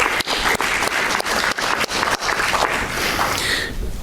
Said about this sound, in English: Let's give Tom a quick round of applause.